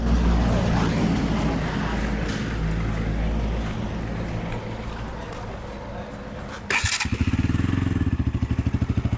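Wind noise and handling rumble, then a sudden start of a KTM Duke 200 ABS single-cylinder motorcycle engine about two-thirds through, settling into a loud, steady thumping idle close by.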